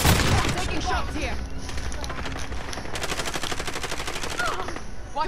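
Gunfire in an online battle royale game set in a salt mine, heard as loud rapid automatic bursts and single shots up close, with players talking over the shooting.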